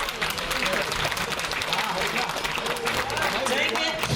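Audience applause at a culture and arts event, dense steady clapping from a large crowd filling the room, sustained at an even loud level, with a voice talking over it.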